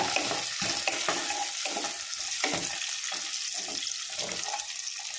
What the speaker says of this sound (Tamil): இதில் சின்ன வெங்காயம் போட போகிறோம். அது நல்லா வதங்கணும். நல்லா வதக்கிக்கலாம்.